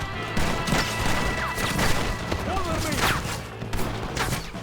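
Gunfire in the Western video game Red Dead Redemption, a dense run of shots and impacts through a train mission, cracking steadily across the whole stretch under game ambience.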